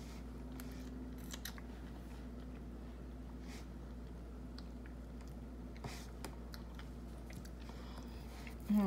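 Soft, close chewing of a fresh fig with small crunches of seeds and squishy bites, a quiet irregular rhythm over a low background hum.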